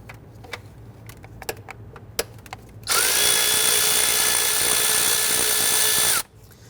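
A few light metallic clicks and taps on a 2011-2017 Nissan Quest 3.5L V6 give way to a power tool whirring loud and steady for about three seconds as a 10mm bolt holding a brake hard line bracket is removed.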